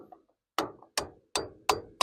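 A hammer striking a gasket being fitted onto a trailer hub: five sharp metallic blows at a steady rhythm, close and clear, after a moment of quiet.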